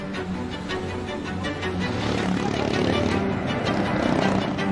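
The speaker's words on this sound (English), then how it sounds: "So the plane has made a U-turn and it's coming back to be opposite to wind." An airplane engine drones loudly and steadily, growing a little stronger as the aircraft comes closer overhead, approaching to land at Gibraltar's airport, where traffic stops to let planes cross.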